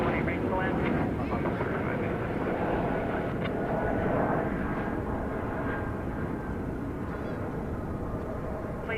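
An airplane on a runway at DFW Airport gives a steady, loud broadband roar that holds through the whole stretch, with a voice over radio chatter faintly beneath.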